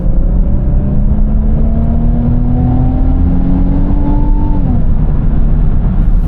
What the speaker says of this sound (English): Pretty good sound from that twin turbo V6